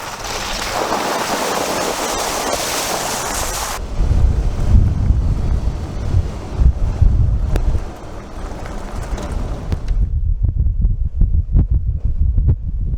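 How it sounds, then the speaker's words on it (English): Strong wind in Utah roars and buffets the microphone, loud and gusty throughout, with a rumbling low rush that shifts in character partway through. "It is still extremely windy."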